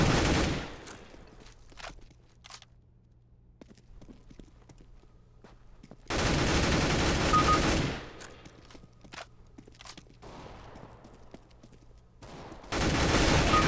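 Gunfire in the game CS:GO: bursts of automatic fire open the clip, then two long, loud sustained volleys come several seconds apart, with scattered single shots and footsteps in the quieter gaps.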